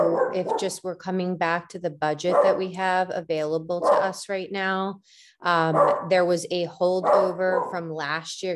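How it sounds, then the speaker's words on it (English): A dog barks and yips in the background of a meeting held over a call, sitting underneath continuous close-up talking by a speaker. "Excuse my dog in the background."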